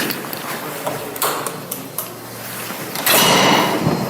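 A door is opened indoors, with a few clicks and a latch-like clunk followed by a louder rush of movement and rustle near the end, close and fairly loud.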